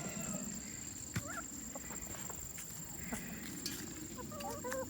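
Backyard chickens about to be fed melon rinds cluck and call in brief chirps over steady outdoor background noise, with occasional faint bird sounds at close to moderate distance.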